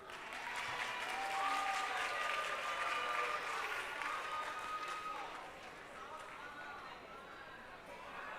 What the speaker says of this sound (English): Please, let's just give her a round of applause as she comes to give us the poetry recital.